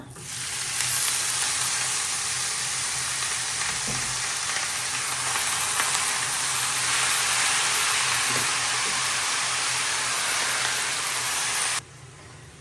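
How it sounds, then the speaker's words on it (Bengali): Radish frying in a pan with lentil dumplings, dried chili and black cumin: a steady, loud sizzle and hiss runs unbroken for about twelve seconds, then drops off sharply. "মূলা ভাজিটা ভাজি করতেছি মাসকালের বড়ি দিয়ে দিচ্ছি শুকনো মরিচ দিয়ে দিচ্ছি"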